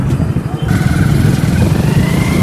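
A motorbike engine runs close by, a steady low rumble with a slight rise after the first half second, heard alone without talk for the whole stretch.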